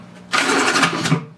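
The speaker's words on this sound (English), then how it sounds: "drill a hole," A drill bit bores a hole through a plastic bucket in one short, loud buzzing burst of about a second that starts abruptly and fades out.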